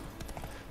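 Horse hooves clip-clop in The Witcher 3 video game, a brief quiet run of a few soft steps on their own.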